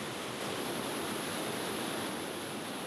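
A mountain stream rushes through a rainforest valley on the Rwenzori trail in Uganda, making a constant broad roar of flowing water, steady and fairly close with no voices.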